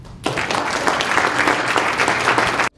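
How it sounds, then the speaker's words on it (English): Sustained applause from a luncheon audience, a dense wash of clapping that starts abruptly, holds steady and loud for over two seconds, then cuts off. "Let me hear yourselves, give yourselves a round of applause."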